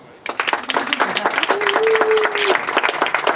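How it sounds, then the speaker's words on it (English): Wedding guests applaud at an indoor ceremony at a golf venue as a guest takes her seat: a dense burst of clapping starts suddenly and holds steady for several seconds, with a sustained tone and voices underneath. "should we give her a round of applause?"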